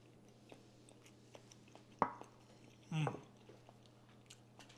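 Two soft chewing and biting sounds on Punjabi scrambled egg bhurji made with eggs, onions, chilies and garam masala, heard close up in a quiet room.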